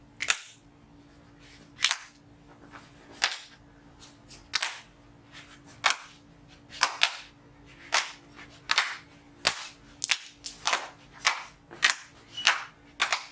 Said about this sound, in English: One sound, one voice. We do it right, it should sound one sound, one voice.